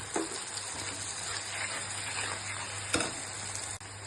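Steady sizzling of mustard and poppy seed paste frying in a hot pan, a constant hiss with a couple of faint clicks, no voices.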